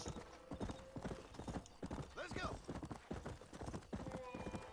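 Horse hooves clip-clop in a brisk, rhythmic run of sharp knocks in the Red Dead Redemption video game, with a brief whinny partway through and quiet talk underneath.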